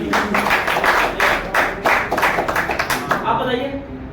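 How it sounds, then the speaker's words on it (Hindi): An audience at a motivational seminar claps loudly in rhythmic bursts, with voices over the applause as it tapers off at the end. "जोरदार ताली बनी चाहिए।"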